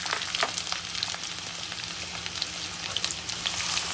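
Cumin seeds and onions fry in hot oil for channa pulao, a steady close sizzle with scattered crackles and pops throughout, loud with no voices.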